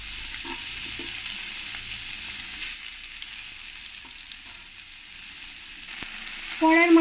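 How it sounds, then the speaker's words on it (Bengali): Large pakal (ban) eel fish pieces fry in oil in a pan, a steady close sizzling hiss running throughout, with a brief louder tonal clatter near the end. "পরের মাছগুলো আমি একই রকম করে ভেজে নেব।"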